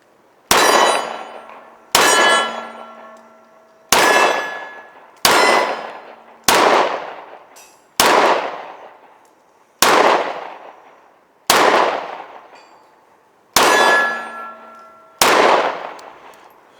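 Carry-gun shots ring off 3/4-size steel silhouette targets at 15 yards: about ten sharp metallic clangs, each with a decaying ring, spaced evenly roughly every one and a half to two seconds, loud and without talk.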